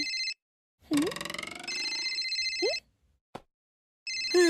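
A phone ringing with a repeating electronic tone, loud and close, broken by short silences, while a voice briefly sounds between the rings.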